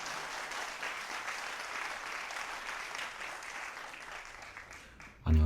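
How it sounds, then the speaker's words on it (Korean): A live broadcast audience claps steadily for several seconds, a dense even patter of applause ending in a sudden low thump. "박수"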